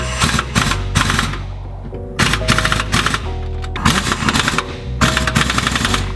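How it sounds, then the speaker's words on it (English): An impact gun on its lowest setting hammers diff cradle bolts in a welded-diff car, loud close rattling bursts of about a second each, five or six separated by short pauses. "I can't get a wrench in there, so impact gun. This is on its lowest setting,"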